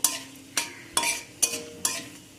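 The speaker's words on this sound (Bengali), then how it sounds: "ফোড়নটাকে এখানে আমি ভালো করে একটু নাড়াচাড়া করে ভেজে নেব যাতে ফোড়নটা সুন্দর করে ভাজা হয়ে যায়" Whole cumin seeds frying in oil while being stirred, with five sharp, evenly spaced scraping strokes of a spoon against the pan over a faint sizzle, close up.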